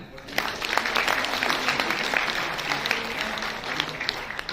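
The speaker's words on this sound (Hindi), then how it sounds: "अमित सर के लिए जोरदार तालियां" An audience claps for a guest at a Modicare meeting, a steady spatter of hands with a voice faintly underneath.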